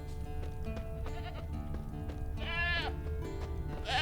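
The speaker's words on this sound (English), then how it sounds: "I hear the goat. I see the goat." A goat in The Witcher 3: Wild Hunt bleats in wavering cries, a couple of times near the end, over a layered background of steady electronic tones and music.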